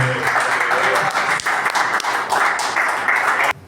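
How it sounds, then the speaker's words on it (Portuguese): Members of a Pentecostal church congregation clap together in a dense, loud, continuous burst of applause that stops abruptly at the end. "Aplauda o nome do Senhor."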